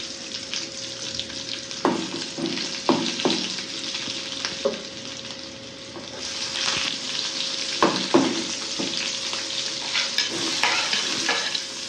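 Garlic sizzles and fries in a hot pan for cauliflower gobi masala, a steady crackling hiss broken by repeated scraping stir strokes, close and fairly loud with no talking.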